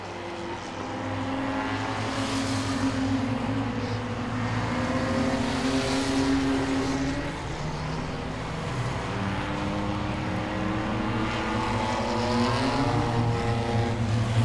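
Race cars lap a short oval at Langley Speedway in a 50-lap Enduro night race. Engines drone steadily, with repeated rising and falling pitch sweeps as cars pass at moderate distance.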